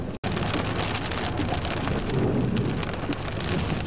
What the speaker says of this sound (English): This is one incredible thunderstorm.